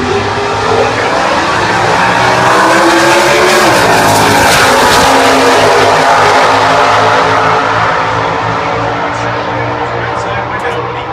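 A loud, roaring engine runs continuously throughout, a 1985 Oldsmobile drag car screaming down the strip at full throttle at the U.S. Nationals, with an announcer's voice faintly under the din.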